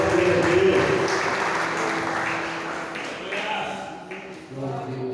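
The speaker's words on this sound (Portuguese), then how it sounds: "Aplauda o Senhor amado." A church congregation applauds, a dense wash of clapping that fades gradually, while a voice talks over it.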